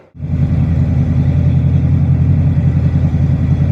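A 1973 Dodge Dart engine with a single-chamber muffler idles steadily after a brief start, a low, even rumble with a regular pulsing beat, close and loud, with no voices.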